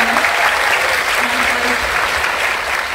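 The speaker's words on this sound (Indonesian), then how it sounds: "Sekali lagi tepuk tangan dong, senang sekali." Loud, dense clapping from a large studio audience at an Indonesian television talk show anniversary celebration, continuous and even throughout, with faint voices mixed into the crowd.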